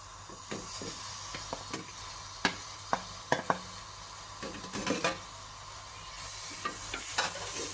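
Diced lamb sizzles steadily in a pot, with scattered clinks and scrapes of stirring over a constant frying hiss.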